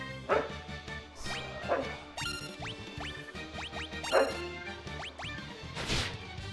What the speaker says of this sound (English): My dog is really getting into this tug game right now.